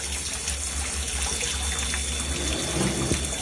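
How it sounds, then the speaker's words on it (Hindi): Water pours steadily into a brewing kettle during beer mashing, a continuous rushing, splashing wash with a faint mechanical hum beneath and a few soft knocks near the end. "हाँ, इसमें और अभी पानी जा रहा है।"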